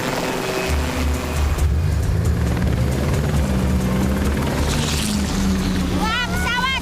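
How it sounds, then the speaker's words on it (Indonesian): A cartoon aircraft drones loudly and steadily overhead, its engine humming with a throbbing low tone throughout. Whistling, warbling effects chirp in near the end. "Wah, pesawat."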